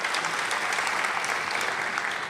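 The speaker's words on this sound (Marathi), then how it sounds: "जोरदार टाळ्या एकदा मानिनीच्यासाठी म्हणून." Audience applause at a Marathi memorial program, a dense, even patter of many hands clapping continuously at moderate distance, with no voices on top.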